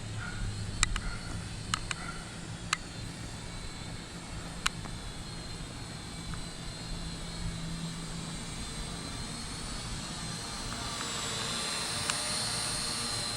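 A cheap foldable Bezgar BD101 1080P camera drone flies outdoors, its steady high whine running continuously with a few faint clicks, the pitch shifting slightly toward the end.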